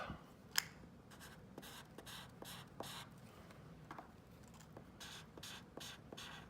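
The chisel tip of a Blick Studio marker glides over paper in a quiet, close series of soft scratchy strokes with small taps between them.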